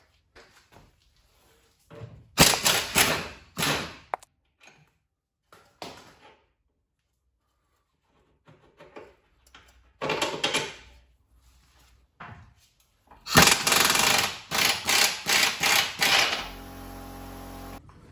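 Work on removing the control arm from a Nissan Qashqai's suspension, three bursts of metallic rattling and ratchet-like clicking separated by quiet pauses, close and fairly loud.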